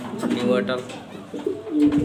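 A pigeon coos softly nearby, low throaty calls mixed with someone speaking over it.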